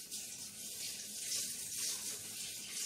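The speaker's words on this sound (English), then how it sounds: "I'm going to wash my hands" Water runs from a kitchen tap while hands are washed, a steady close splashing hiss that continues without pause and without any talk.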